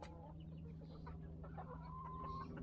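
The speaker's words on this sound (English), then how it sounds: "There's a lot of cocks in this aviary." Roosters and hens in a crowded aviary cluck and call steadily throughout, one drawn-out crow-like note rising over the flock near the end, all fairly close and alone without talk.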